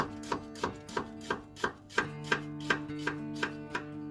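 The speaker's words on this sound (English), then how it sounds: "Nice finely chopped onion." A sharp knife chops an onion on a board in a quiet, steady rhythm of about a dozen crisp strokes, close by and with no one speaking.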